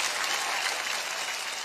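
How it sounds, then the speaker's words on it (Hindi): An audience claps at a gathering: dense, steady applause from many hands, sustained evenly without a pause. "एक बार जोरदार तालियां हो जाए"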